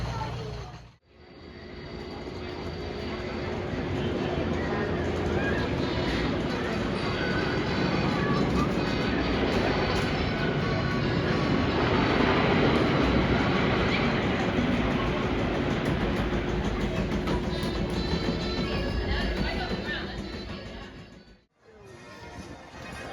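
A ride on the Busch Gardens theme park train, a steady rolling rumble with continuous clatter and a low constant hum that holds for about twenty seconds before cutting off.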